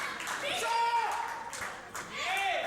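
A wrestling crowd claps in scattered bursts beneath someone commentator talking over the match.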